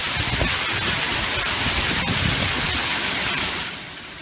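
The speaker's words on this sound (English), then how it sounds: "Severe storms slamming western Missouri last night, bringing heavy rain and several tornadoes to that region." Heavy rain in a severe thunderstorm over western Missouri, a dense, steady roar of downpour heard up close that eases slightly toward the end, with no talking.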